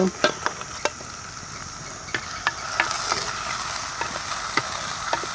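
Onion and garlic sizzle in a pan of hot oil, with a spoon scraping and clinking against the pan in irregular strokes as they are stirred, close and steady with no talking.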